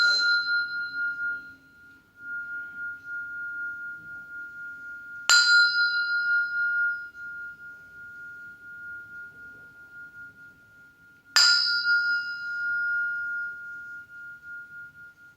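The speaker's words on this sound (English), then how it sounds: "And that's our wonderful Tibetan temple bell." A Tibetan temple bell is struck three times at even intervals, each strike ringing out clear and sustained before slowly fading into quiet.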